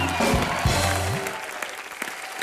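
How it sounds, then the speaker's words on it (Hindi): A studio audience at a Hindi TV comedy show applauds the Happy Ending cast with loud, dense clapping that starts under a brief voice and a sweeping tone, then gradually thins and fades. "एक बार हैप्पी एंडिंग की पूरी कास्ट के लिए जोरदार तालियां"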